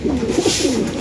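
A pigeon gives a few soft, throaty coos in quick succession, close and clear with no talking over it.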